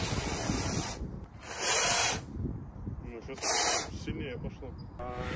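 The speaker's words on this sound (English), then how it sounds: "Now we need to spray some foam on the cardboard" Bursts of pressurized foam spray hiss from a nozzle onto cardboard, two loud blasts separated by quieter handling and rustling, with a shorter burst near the end.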